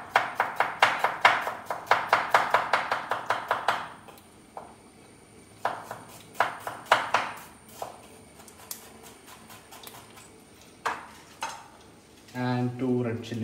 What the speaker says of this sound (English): 2 shallots need to be round, thinly sliced for the tadka